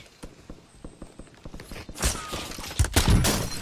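Gunfire in the video game Warzone: a rapid run of evenly spaced shots, then heavier, louder bursts and impacts that build toward the end, with no speech over them.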